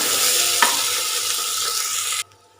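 Onions fry in a pan with a loud, steady broadband sizzle and a single sharp scrape of a spoon early on, cutting off abruptly near the end.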